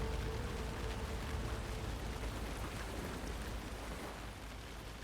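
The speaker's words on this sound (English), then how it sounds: "this water, the rain, this is setting the tone, man" Rain in Alan Wake 2 near a witch's hut, a steady dense wash of falling water and soft splashes, constant and fairly quiet with no talk.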